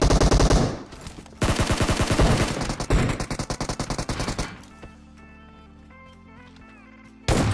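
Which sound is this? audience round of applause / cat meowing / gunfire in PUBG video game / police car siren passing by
gunfire in PUBG video game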